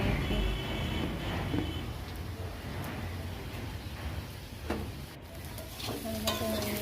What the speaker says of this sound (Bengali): এদিকে আমি ভাবছি আলু ভাজতে বসিয়ে দিয়েছি।